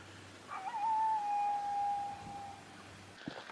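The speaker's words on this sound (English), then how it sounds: "I can hear coyotes in the distance." Coyotes howl in the distance at a cold evening campsite, a single thin, wavering, rising-and-falling cry lasting over a second against a faint, quiet background.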